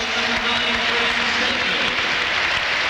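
A football stadium crowd of about 10,000 at Bradford City gives a standing ovation at a celebrity charity match, a dense, continuous wash of applause and cheering that holds steady and loud throughout.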